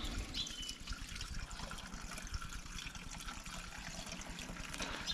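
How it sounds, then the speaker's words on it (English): Fresh fuel pours into the small tank of a Honda BF2.3D outboard engine, a steady close trickling and splashing of liquid that runs without a break, with no voices. "What we'll do now, we'll put some fuel in, just check for leaks. This is fresh fuel."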